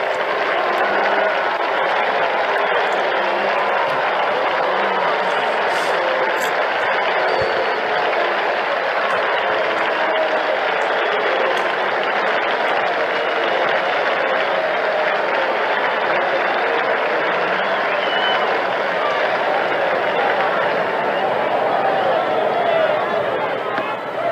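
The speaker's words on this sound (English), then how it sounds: "the applause will be for Mickey Mantle" A baseball stadium crowd roars and applauds for Mickey Mantle's last at-bat. The ovation is a continuous, evenly loud wall of clapping and cheering from a distant mass of fans that holds steady for a long stretch.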